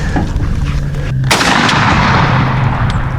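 A turkey shotgun fires a single loud, sharp blast at a pattern target outdoors, with a booming report that rings and decays over a couple of seconds amid steady background noise.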